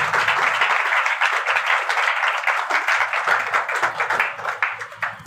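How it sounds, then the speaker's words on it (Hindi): A congregation at a church gathering gives loud, steady applause after a scripture reading, the clapping filling the space with a fluttering, continuous texture that tapers off toward the end. "कलाम मुकद्दस के लिए जोरदार तालियां बजाएं।"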